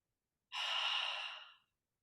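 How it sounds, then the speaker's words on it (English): A single breathing sigh, the physiological sigh of two quick in-breaths followed by a longer out-breath, heard close and alone as one smooth airy rush of about a second that tapers away. "it's just two in breaths and then a longer out breath"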